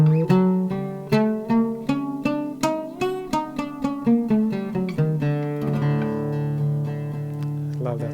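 An oud plays maqam Hijaz Qad, starting with a brisk run of clearly plucked, ringing notes and then settling into a sustained, trembling phrase near the end, all close and alone.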